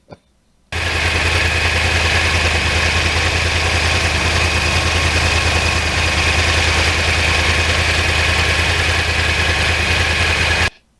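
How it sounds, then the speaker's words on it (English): A 2009 Yamaha R1 with a crossplane engine drones steadily for about ten seconds, a loud and constant close-range roar that holds a nearly even pitch throughout, with no voices. "It's amazing how fast an R1 accelerates."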